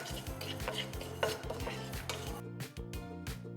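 Rice and fenugreek seeds dry-roasting in a pan, stirred with a utensil that scrapes and taps rhythmically against the metal in quick repeated strokes, close and fairly quiet.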